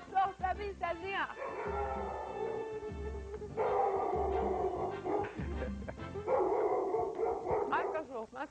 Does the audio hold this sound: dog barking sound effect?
yes